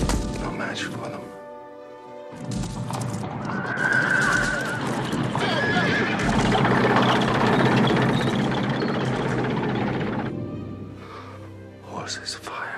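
Horses neigh and whinny amid a chaotic burning scene in the 1983 film The Dead Zone, loud layered cries and thumping hooves building and sustaining over a roaring background, with voices briefly heard.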